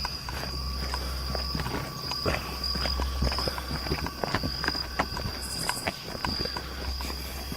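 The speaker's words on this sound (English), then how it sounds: "Dude, I hear somebody walking, and it's not our freaking footsteps." Footsteps crunch through the woods in an uneven sequence of soft thuds and rustles, with insects chirping steadily in the background.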